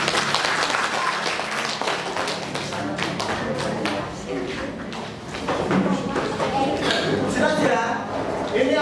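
A school class applauds in a classroom, with scattered, uneven clapping carrying on under loud overlapping voices and chatter for several seconds.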